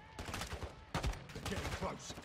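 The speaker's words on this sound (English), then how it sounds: "I'm getting shot at" In a Call of Duty: Modern Warfare 2 (2022) battle played on Xbox Series X, gunfire comes in rapid bursts of sharp shots with heavier impacts. A voice talks intermittently underneath.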